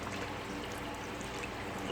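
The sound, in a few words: pouring cornstarch slurry into Instant Pot pot roast liquid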